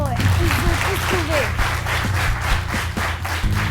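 Quiz show audience applauding with broad, steady clapping throughout, while a host's voice speaks over it and a faint pitched tone sweeps up and down in the background.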